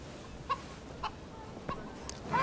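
A hen clucks in short, separate calls spaced about half a second apart over a quiet background, with a louder burst at the end, fairly faint and alone.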